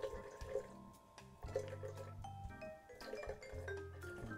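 Fresh coconut milk squeezed by hand from grated coconut through a sieve into a container, heard as soft, close, irregular wet drips and trickles.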